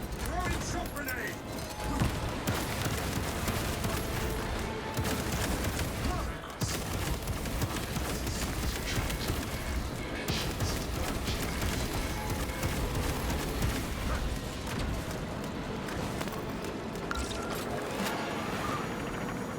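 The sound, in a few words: grenade explosion and gunfire in Space Marine 2 video game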